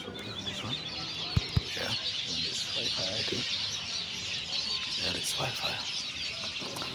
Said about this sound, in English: You listen to the birds singing here.